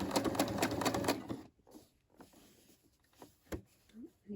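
A Brother SE600 sewing machine stitches in a quick rapid run of needle strokes for about a second and a half, then stops, leaving quiet handling clicks and small scattered noises.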